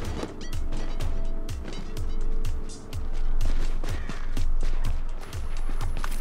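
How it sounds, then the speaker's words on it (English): Rapid gunfire in The Division, sharp repeated shots at a steady quick rhythm over about six seconds, fairly loud and close with a constant low rumble of game ambience beneath. "Gunfire."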